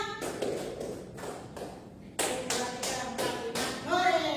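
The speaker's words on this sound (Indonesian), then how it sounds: "Tepuk satu, tepuk dua, tepuk tiga, tepuk empat, tepuk lima." Hands clap in a counted sequence of about eight sharp, distinct claps, with a pause midway and the last few coming closer together, with a voice faintly present.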